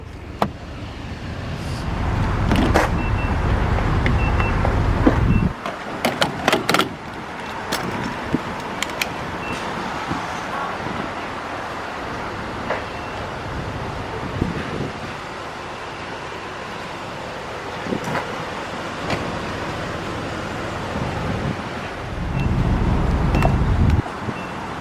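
A 2019 RAM 1500 pickup truck gets boarded and driven, with door clunks and cabin thumps early, then a low engine and road rumble that swells at the start and again near the end.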